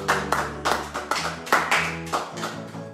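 A church congregation claps in steady, rhythmic bursts roughly twice a second, the handclaps loud and close over sustained musical tones.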